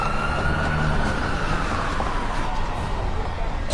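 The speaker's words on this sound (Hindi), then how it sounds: "एम्बुलेंस बुलाई गई।" An ambulance siren in a cartoon wails with a sliding, wavering tone over a busy, noisy background, loud and continuous throughout.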